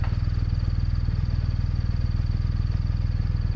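A 2024 BMW R 1250 RT with a 1254cc ShiftCam boxer engine runs at a steady, even throb, a constant pulsing drone heard close without pauses.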